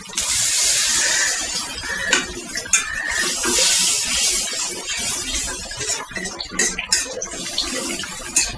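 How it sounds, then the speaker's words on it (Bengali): Water is poured into a cooking pot of chicken with cumin and coriander powder, a steady rushing splash with a few clinks of the pot, close and fairly loud throughout, with no talk. "এখন একটু পানি দিয়ে দিব।"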